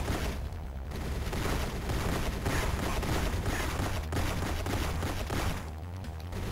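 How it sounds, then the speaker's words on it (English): Continuous rapid gunfire and booms from the video game GoldenEye: Rogue Agent on the Nintendo DS, a dense, loud barrage running throughout with short dips. "Let's shoot this one in the head instead."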